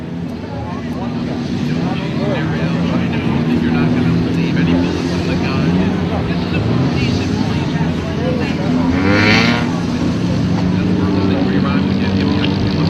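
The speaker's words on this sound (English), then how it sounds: "Got that beautiful pace car out there going turn number 3, provided to us by Griffith's Auto Ford in Caribou. Nice 2010 Mustang." A 2010 Ford Mustang pace car circles a race track, its engine drone steady and moderately loud beneath continuous commentary from an announcer over a public address, with crowd and track ambience throughout.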